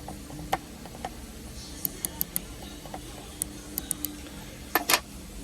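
Small plastic parts of a Hyundai/Kia window switch snap into place, giving a series of sharp, light clicks and ticks spread irregularly through a quiet room, with a louder cluster near the end.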